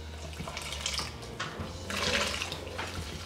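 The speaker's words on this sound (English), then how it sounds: "I'm going to slowly pour this milk into my eggs." Milk poured slowly in small amounts into an egg mixture for a Black Forest trifle, a soft liquid splashing and trickling that swells in the middle of the pour, close and fairly quiet, with no talking.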